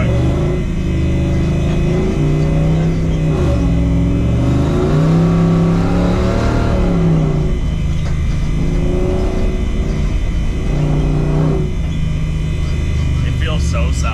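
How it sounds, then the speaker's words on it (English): Truck engine revving and surging as it drives over sand dunes, loud and close from inside the cab, rising and falling with throttle, with talking over the engine noise. "I'm going for a ride in Elliott's truck."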